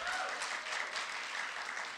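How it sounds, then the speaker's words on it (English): Sustained audience applause for a panel at a college lecture series, a dense, even wash of many hands clapping throughout with no voices breaking through. "Let's give our panel a round of applause."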